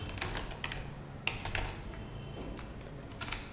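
Quiet clicking of keys on a computer keyboard, a quick irregular run of light taps close by over a low background hum, with no talking.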